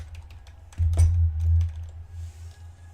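Keys clack on a computer keyboard, several quick close taps scattered over a steady low hum, with a denser burst of keystrokes around the middle.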